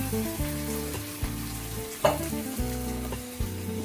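Whole tomatoes in their sauce cook and sizzle in a pan for a simple Italian pasta, with steady frying hiss, a few scraping stirs and one sharper clatter midway, close and loud, with no talking.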